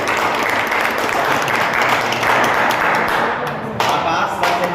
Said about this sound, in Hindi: A big hand out of applause everyone.